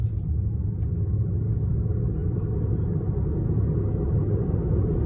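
A Tesla electric car pulls out slowly from a stop sign, giving a steady low rumble of road and tire noise throughout, with no engine roar and no voices.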